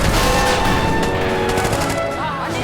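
Artillery fire in a toy war animation, a dense, loud barrage of sharp gunfire and blasts rolling on without pause.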